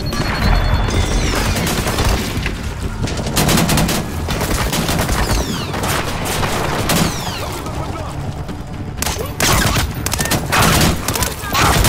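Dense, loud gunfire in the stealth shooter Splinter Cell Blacklist: sustained automatic bursts and sharp shots, with some heavier booms mixed in, continuing throughout with voices faintly underneath.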